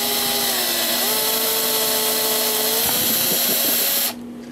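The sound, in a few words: reaming clock movement bushing hole with 3.47 mm reamer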